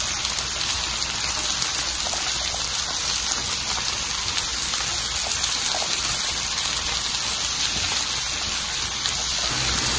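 Vinegar, 100 ml of flavored or plain alcohol vinegar, poured steadily for a low-carb pepper sauce, giving a constant close splashing gush that runs unbroken throughout with no talk.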